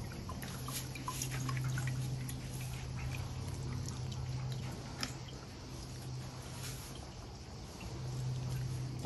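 Water runs and drips steadily as freshly harvested garden tomatoes are rinsed, a soft, continuous splashing with scattered small droplet sounds, close but fairly quiet.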